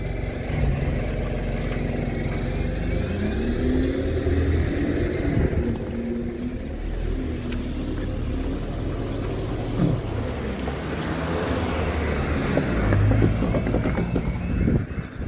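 A Borders bus passes by, its engine a steady mid-pitched rumble that swells and fades over about fifteen seconds, with someone speaking now and then over it.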